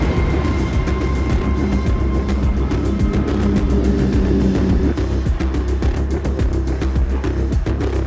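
Endurance race cars run during FIA WEC qualifying at Qatar, a loud, continuous engine drone with pulsing revs and passing roar filling the whole stretch.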